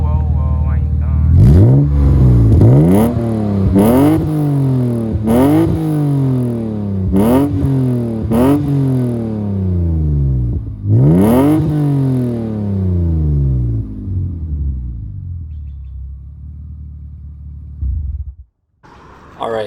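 A 1999 BMW E36 M3 revs through its exhaust, with loud, close repeated blips that rise sharply and fall away in a steady rhythm, followed by a longer rev that winds down to idle before cutting off.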